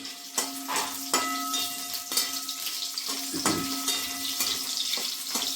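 A handful of chillies fries in a pan with a steady sizzle and light clinks of stirring, close and moderately loud, no talking.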